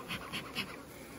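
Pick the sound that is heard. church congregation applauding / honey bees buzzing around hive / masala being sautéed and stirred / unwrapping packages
honey bees buzzing around hive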